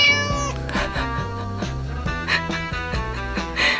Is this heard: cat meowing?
yes